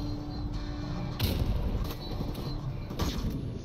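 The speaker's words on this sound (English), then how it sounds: "Fucking flashbang." Explosive flashbang bangs and bursts of gunfire from the video game Modern Warfare Remastered, loud and continuous with sharp blasts around the middle and near the end, over a dense battle din.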